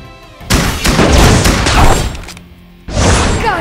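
A turret is destroyed in the mobile game Legend of Ace: a loud booming crash with shattering debris rolls on for about two seconds, then cuts off briefly before another burst of impact noise.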